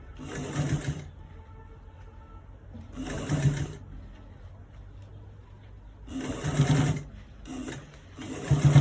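Sewing machine stitching a roll collar V-neck, running in bursts of fast mechanical chatter separated by quiet pauses, close and clear with no talking over it.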